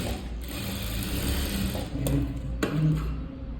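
A sewing machine runs straight stitches on the front of a blouse, giving a steady, close mechanical whirr with faint ratcheting clicks and brief pauses, with no voices.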